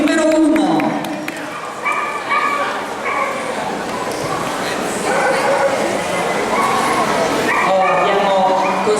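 Several dogs yip, whimper and bark at an outdoor dog show, close and loud, in bursts over a crowd murmur while a person talks throughout.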